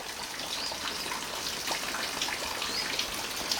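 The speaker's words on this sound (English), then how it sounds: "It's pouring out here." Heavy rain pouring outdoors on a morning turkey-hunting outing in New York, a dense continuous hiss of drops with scattered patters, steady and fairly loud throughout with no voice.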